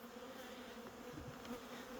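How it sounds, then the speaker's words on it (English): Honeybees buzz around screened honey supers, trying to rob them, a steady faint droning hum with a few louder passes of individual bees close by. "those bees behind me haven't figured out the meal's over here"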